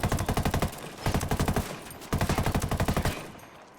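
Automatic gunfire on a cartel convoy in a video game: three loud, close bursts of rapid machine-gun shots, each a tight rhythmic string of sharp cracks separated by brief pauses.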